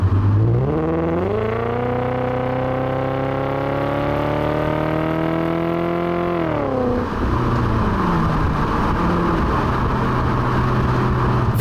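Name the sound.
Volkswagen Passat W8 engine while driving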